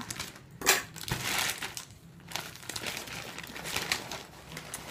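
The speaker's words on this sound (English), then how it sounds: "we are going to unbox the easiest one to unbox" Crinkling and crushing of a book haul packet's packaging as it is opened, a close run of crackly rustles and crumples with brief pauses between bursts.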